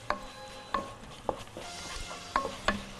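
Mbakbaka, a Libyan stew, is stirred in a pot with a few sharp spoon knocks against the pot over a quiet simmering bubble, nearby and moderately soft.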